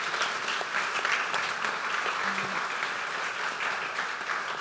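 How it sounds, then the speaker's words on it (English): An audience in a studio gives a warm round of applause for songwriter and producer Luke Laird, dense steady clapping that carries through the whole stretch. "Round of applause for Luke."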